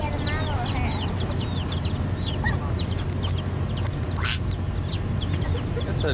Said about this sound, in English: Don't mess with that chicken.